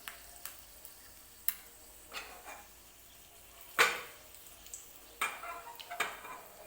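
Two dried red chilies dropped into hot oil with cumin for a dal tadka, giving faint, soft sizzling with scattered light clicks and stirring taps, close but quiet.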